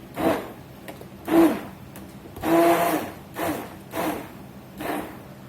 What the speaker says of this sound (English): Get us a stick blender in here. Get those onions